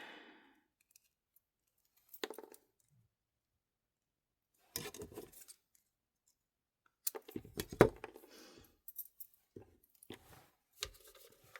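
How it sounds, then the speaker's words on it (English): Scissors snip through thin cured resin in a few short, crisp bursts between long quiet gaps, close and fairly faint, as the piece is trimmed into little strips. "going to cut it in little strips."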